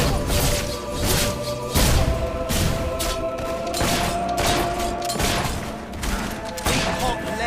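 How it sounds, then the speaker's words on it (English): Rapid bursts of gunfire from a Fable 3 fight crackle almost continuously, with loud sharp volleys, crashes and thuds layered over a busy battle mix. "This guy's a right menace with that gun"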